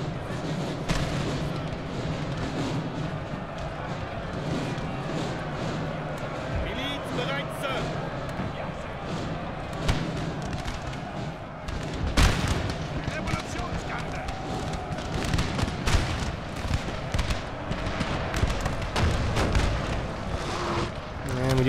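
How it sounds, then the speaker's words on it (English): Artillery fire in a Napoleon: Total War battle: repeated heavy booms and sharp blasts burst through a dense, continuous din of combat, some close and loud, others more distant. "We do have some artillery falling."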